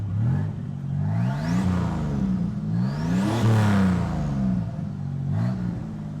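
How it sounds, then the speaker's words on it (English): A rat rod's engine revs up and down several times in steady swells, close and loud, with a whirring mechanical drone between the revs. "let me listen to the engine. Give it a little bit of a rev."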